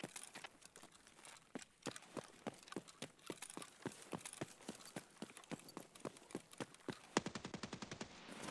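Gunfire in the video game Escape from Tarkov, with an AKS-U in use, crackles as a long run of rapid, sharp shots, with a denser burst near the end, fairly faint and steady in rhythm.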